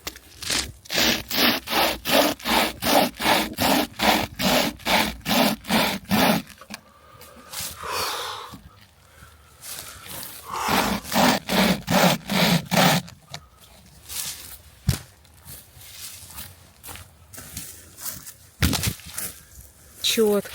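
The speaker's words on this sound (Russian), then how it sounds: "Кстати, тоже можно забрать, чтобы уже дровишко удобно пилить." A hand saw works through a piece of firewood in a forest, with steady, loud back-and-forth rasping strokes in a quick rhythm, a pause, then another run of strokes and some scraping near the end.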